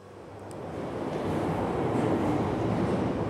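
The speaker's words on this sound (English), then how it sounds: "When this train comes, I'm going to signal them to stop with my mighty red light." A train rumbles in, its low roar swelling steadily louder as it draws near, with no talking.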